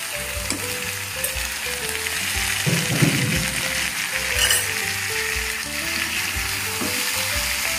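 Chicken mince frying in a pan, a steady dense sizzle running throughout with intermittent scraping and stirring, close and loud, no voices.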